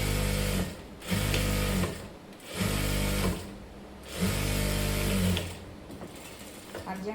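Electric sewing machine stitching a padded blouse in four loud bursts of rapid whirring, each about a second long, separated by brief pauses, close by.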